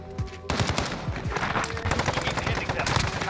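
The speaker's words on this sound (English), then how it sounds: "The new EXCAVATOR shotgun in Modern Warfare." Heavy blasts from the Excavator shotgun ring out in Modern Warfare, a quick volley of loud close shots in rapid succession after a short quiet opening, with game action noise around them.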